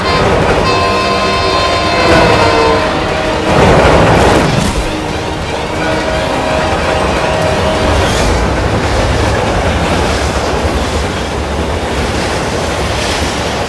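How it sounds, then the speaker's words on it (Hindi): A train approaching along the tracks in an action fantasy TV serial, a loud continuous rumbling roar with rushing noise and faint clattering, dense and sustained throughout, with brief tonal whistle-like bands early on. "ट्रेन अपनी तरफ आ रही है।"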